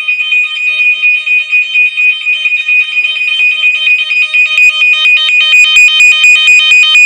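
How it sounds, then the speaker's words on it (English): An alarm clock rings alone and loud with a steady, piercing high electronic tone that turns into rapid pulsing beeps toward the end. "Here's the alarm clock."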